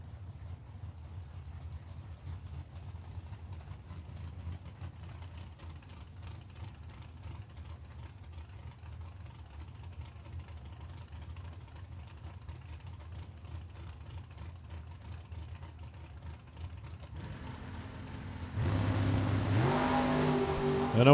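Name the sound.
drag racing cars launching, Ford Mustang and Oldsmobile Cutlass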